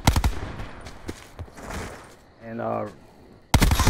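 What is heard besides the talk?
MX9 gunfire in a Call of Duty video game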